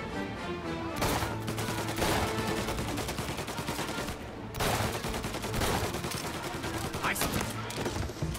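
A loud, sustained firefight in Mafia Definitive Edition, with dense volleys of gunshots and machine-gun bursts, two short pauses breaking the otherwise continuous, close-range barrage.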